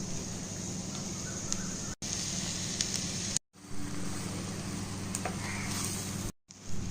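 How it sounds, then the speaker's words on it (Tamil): Mashed potato stirred into onions frying with chilli powder and turmeric in a pan, giving a steady close sizzle with light scraping, broken by a few brief silent gaps and no speech. "மசிச்சு வச்சிருக்கிற உருளைக்கிழங்க இதோடு சேர்க்கிறோம்."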